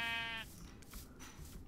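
A Minecraft sheep gives a single short, bright bleat up close, breaking off quickly and leaving low background noise.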